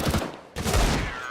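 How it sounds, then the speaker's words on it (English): A single loud gunshot in the game CS:GO, with a sharp attack and a booming low tail, part of a busy burst of in-game gunfire. "Finally, XANTARES hits the shot."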